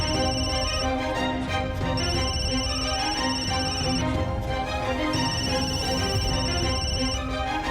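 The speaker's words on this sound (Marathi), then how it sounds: "इंद्रनील, याने असा अचानक फोन का केला?" A telephone rings with an incoming call in a Marathi TV drama scene, three steady electronic ring bursts repeating about every two seconds over a continuous background music bed, with no talking.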